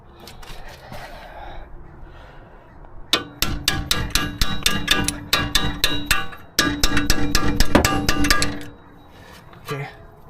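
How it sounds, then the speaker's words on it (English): Hammer blows driving bolts out of a Mercedes W212 E250 4matic front wheel bearing, two rapid runs of sharp metallic strikes, close and loud, with a quieter stretch of shuffling before and after. "I will need to hammer out those bolts."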